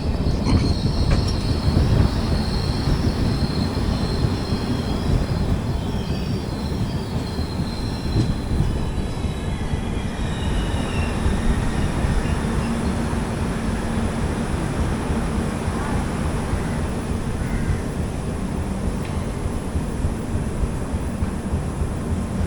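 The Pune–Kanniyakumari Express, train 16381, rolling through a halt station near Thiruvananthapuram, heard as loud continuous rumble and wheel clatter from aboard an AC economy coach, with faint wheel squeal overhead and no talking.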